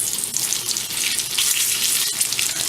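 Bacon frying in hot grease after being flipped, a steady bright crackling sizzle with occasional sharper pops, close and continuous with no talking.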